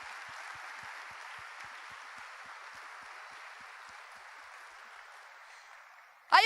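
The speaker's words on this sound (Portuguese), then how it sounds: "Vamos aplaudir ao Deus Pai, pelo amor dele que é manifesto em nossos corações." Church congregation clapping in praise during a Portuguese-language sermon, a broad, steady wash of many hands, moderately loud and gradually fading, ending abruptly in a sharp burst of louder sound.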